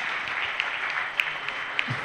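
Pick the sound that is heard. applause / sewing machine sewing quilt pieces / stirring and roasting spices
applause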